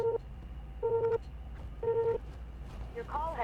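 Repeated electronic tones on a phone call to voicemail, three steady beeps about a second apart with a pitch-sliding tone at the end, over low line hiss.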